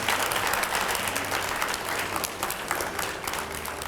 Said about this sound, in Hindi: जरा जोरदार तरीके से तालियां बजा दीजिए